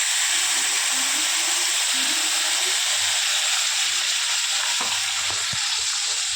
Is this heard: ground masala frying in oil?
yes